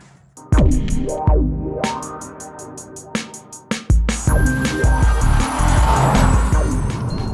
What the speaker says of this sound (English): This F-Type is the V6S.